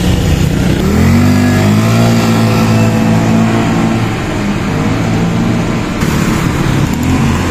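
A Honda Griffin 180i scooter, just fitted with a new steering ball race, rides on the road with a loud, close engine drone that rises as it accelerates and then holds a steady roar.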